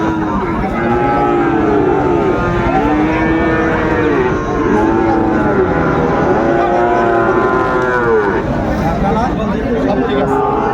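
Friesian and cross-breed bull calves and cattle moo repeatedly at a busy livestock market in Dinajpur, the overlapping calls near and far over a constant crowd murmur and bargaining voices.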